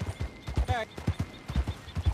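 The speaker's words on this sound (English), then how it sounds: "We've been riding these horses like dog shit all day." Horses gallop in a video game, their hoofbeats drumming in a quick, even rhythm with a short rising whinny cutting in partway through, close and moderately loud.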